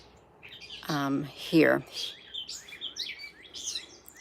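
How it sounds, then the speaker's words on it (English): A bird near its nest gives a couple of clear, close whistled calls followed by a quick run of bright chirps, with a person's brief words in between. "I forget what type of bird this is, but it's so pretty"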